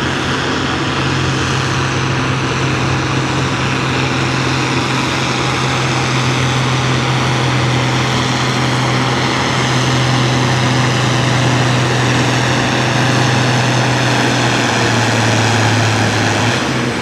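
Farm tractor competing in a truck and tractor pull roars with a loud, sustained droning engine note that holds steady for the whole stretch, slightly shifting pitch near the end, with no talk.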